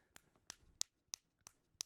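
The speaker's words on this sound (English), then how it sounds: "That's me clapping." Odd clapping done by one person, six sharp dry snapping cracks spaced roughly a third of a second apart, close and isolated in a quiet room.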